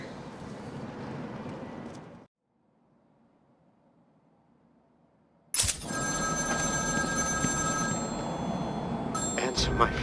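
A telephone rings in the video game Batman: Arkham City, loud electronic trills set against game noise and a voice, with a brief near-silent gap before the ringing starts again.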